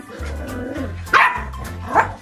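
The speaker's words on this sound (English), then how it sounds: "Hey, no barking." Puppies barking in two loud, sharp yaps about a second apart, over a low steady hum, with small whimpering squeaks between them.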